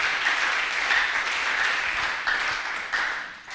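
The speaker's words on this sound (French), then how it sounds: "Acclamons le Seigneur." A church congregation applauding during a worship service: a dense, continuous wash of many hands clapping for several seconds, fairly loud and even, swelling slightly at moments, with no voices.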